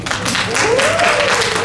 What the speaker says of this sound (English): I know y'all are just clapping because everybody in the whole world can see you